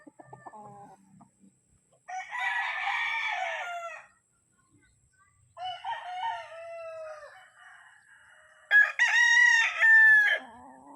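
A gamefowl brood stag on a game farm crows loudly and close several times, each crow a long strained call, with short clucks in between and stretches of quiet.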